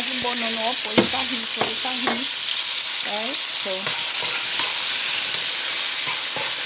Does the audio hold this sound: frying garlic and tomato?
yes